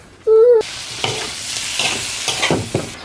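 Shrimp dropped into melted butter in a pan, a brief tonal clang first, then a loud, close sizzle with bursts of hissing and stirring scrapes.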